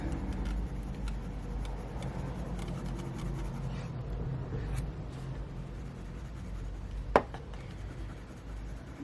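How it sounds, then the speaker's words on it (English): Crayola crayons colouring on paper make a steady, soft scratchy rubbing of continuous close strokes, with one sharper tap near the end. "these crayons work well on this paper as well"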